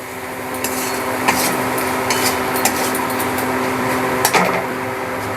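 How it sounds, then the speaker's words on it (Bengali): Grated papaya being stir-fried with mutton and spices for a light mutton curry, a continuous loud sizzle with occasional scrapes and taps of a spatula against the pan, close up. "এবার এটাকে মশলার সঙ্গে সুন্দর করে কষিয়ে নিতে হবে একসঙ্গে"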